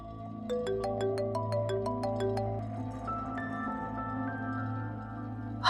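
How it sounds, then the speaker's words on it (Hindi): A phone ringtone plays for an incoming call, a bright melodic sequence of electronic tones repeating steadily over a low background hum. "आदिल का फोन।"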